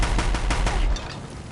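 Gunfire in the video game Horizon Zero Dawn: a loud, rapid burst of about eight closely spaced shots, like an automatic weapon, ending abruptly and leaving a brief fading tail.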